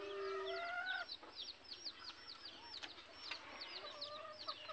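Labuyo wild junglefowl chickens cluck repeatedly in rapid, high bursts from a moderate distance, with one drawn-out call near the start, over a quiet outdoor background.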